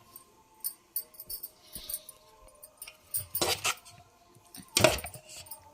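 A spoon stirs gongura chutney, giving scattered metallic clinks and scrapes against the bowl, with two louder bursts of clattering mixing close by.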